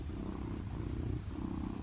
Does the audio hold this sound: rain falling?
no